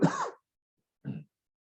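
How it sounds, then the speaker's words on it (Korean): Two short, close throat-clearing coughs from a preacher during a church service, the first rougher and longer, the second brief, separated by silence. "말을 많이 하면 이제 막 이렇게 기침이 좀 나와요"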